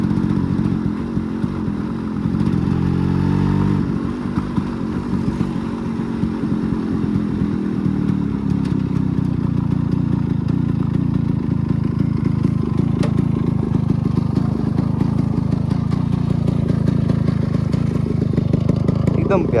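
A fully stock Yamaha RX 135 two-stroke motorcycle engine runs steadily up close, a continuous low throbbing drone with a brief rev near the start, while someone talks over it.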